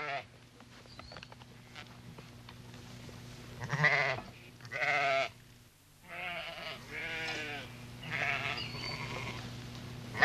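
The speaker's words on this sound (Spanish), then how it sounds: "salen los rebaños de ovejas entre las 6:30 y las 7" A flock of sheep bleats at dawn on a high plateau 2,600 metres up in the Atlas Mountains, with several wavering bleats from different animals, fairly soft and spread out, over a low steady hum.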